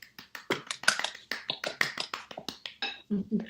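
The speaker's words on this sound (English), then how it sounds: "Light applause" Light applause from a small audience at a women's business academy session, a brisk run of close, crisp hand claps that tapers off.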